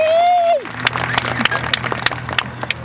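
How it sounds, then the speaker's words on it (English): A graduation crowd at Torrington High School, 2022, applauding steadily with scattered sharp claps, following a brief tone at the start. "we could get a huge round of applause for the class of 2022"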